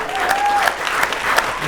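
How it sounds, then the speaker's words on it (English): Audience at a live talk show clapping for everyone present, a short burst of moderate applause with a few sharper claps standing out and a brief whistle-like tone near the start. "just for a second, clap for everybody here"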